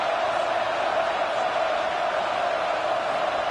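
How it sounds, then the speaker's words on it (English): A stadium crowd at a football game roars steadily on a fourth down, a dense, loud wash of cheering noise that stays constant with no breaks. "Crowd trying to make a difference here on fourth down."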